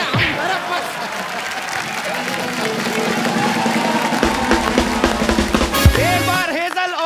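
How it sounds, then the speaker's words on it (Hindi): A studio audience on an Indian television comedy talk show breaks into sustained applause and cheering, a dense wash of clapping that holds steady with music and bright accents rising near the end. "एक बार हेजल और युवराज के लिए जोरदार तालियां।"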